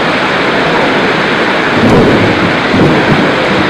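Steady heavy rain pours down with low rumbling thunder rolling in, the rumble swelling about halfway through and again near the end, with no voices.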